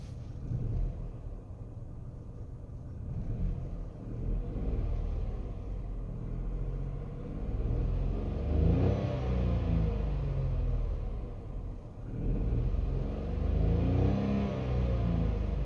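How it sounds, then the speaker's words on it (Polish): Dacia Duster III LPG, a 2024 model, with its engine idling and running after a start, already somewhat warm; a steady low rumble that swells slightly twice as revs rise, heard close and without talk. "ale jak zapalimy autko"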